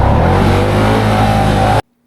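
A Can-Am Outlander quad's engine revving hard under acceleration, a steady loud mid-pitched drone climbing in pitch, close up, before cutting off abruptly.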